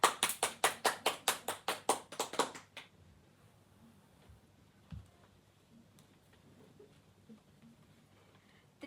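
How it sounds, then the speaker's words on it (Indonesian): An audience at a seminar applauds to welcome speakers onto the stage, with a burst of about a dozen rhythmic, evenly spaced claps that stops abruptly, leaving a quiet room. "Mari kita sambut dengan tepuk tangan yang meriah."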